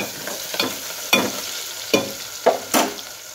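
Big onions frying in a pan for a bottle gourd curry, a steady soft sizzle broken by several sharp scraping stirs of a spoon against the pan.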